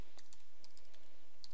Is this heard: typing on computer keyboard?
yes